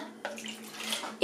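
Cold water, about 50 ml, is poured into a container to prepare Fix gelatin for a raspberry sponge cake; a short, quiet splashing trickle over a faint steady hum.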